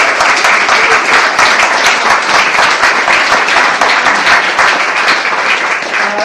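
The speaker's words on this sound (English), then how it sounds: "I would like to end by offering you all my applause." Sustained applause from an indoor audience at a book launch party, dense steady clapping filling the room at full loudness from start to finish.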